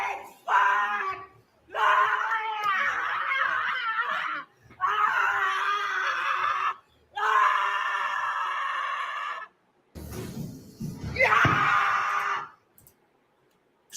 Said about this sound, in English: Okay, a little screaming here.